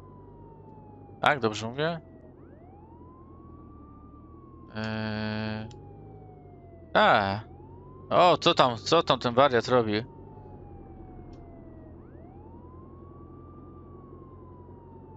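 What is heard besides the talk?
police siren in video game Contraband Police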